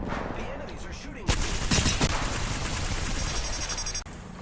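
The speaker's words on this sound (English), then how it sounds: "Hostile right here. The enemies are shooting." Enemy gunfire in the video game Apex Legends, a dense burst of rapid shots and impacts over a constant loud game soundscape, with a sharp louder shot standing out near the middle.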